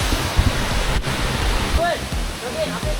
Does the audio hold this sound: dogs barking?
no